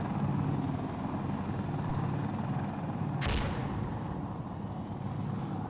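Helicopter rotor and engine noise in the Insurgency video game, a steady, loud whirring drone filling the whole clip, with one sharp, brief burst like a gunshot midway through.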